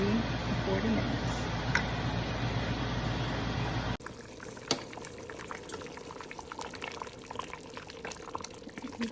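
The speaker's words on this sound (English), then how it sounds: "we're going to let it simmer away" A pot simmers on the stove, first a dense bubbling hiss, then after a cut a softer scatter of pops and gurgles, close and steady with no talk over it.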